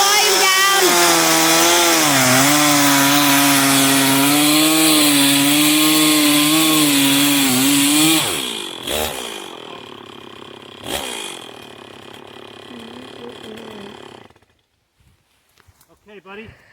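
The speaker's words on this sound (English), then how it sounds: "I recommend you turning the volume down." Chainsaw carving a big wood block into a bear figure, loud droning engine for about eight seconds with wavering pitch, then cutting out to sputters and quieter handling sounds before fading to near silence.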